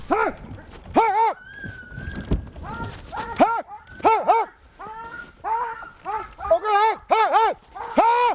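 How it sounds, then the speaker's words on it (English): A sled dog team in the Arctic strains to haul a skiff up a final hill, the dogs letting out repeated high whining yelps and howls in close, overlapping bursts. "Working with his dog team, Aviak strains to pull their skiff up the"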